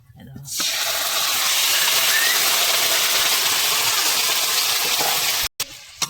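Marinated snake fish goes into a hot pan for a light Bengali curry, setting off a loud, dense hiss that keeps going steadily before a brief break near the end.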